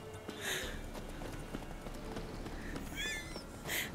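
Horse hooves running in The Witcher 3, a soft steady clip-clop at a moderate distance with faint chimes and effects over it, and no voices.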